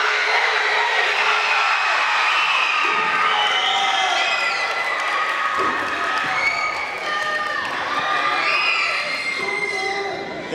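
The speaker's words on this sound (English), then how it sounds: "Let's join our team once more in a nice and loud Sabres cheer." Loud crowd of students chanting a team cheer together at a school basketball pep rally, sustained shouting and cheering in a large echoing gym with a few brief dips, voices mixed throughout.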